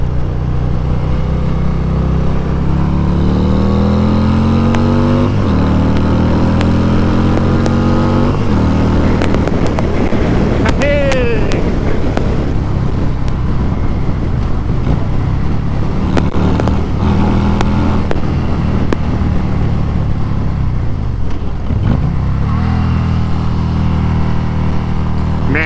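A 2024 Harley-Davidson Road King Special with a Stage 3 Screamin' Eagle big-bore kit rumbles loudly up close, its V-twin exhaust rising and falling through revs and gear changes, with a brief pitch sweep midway and no talk.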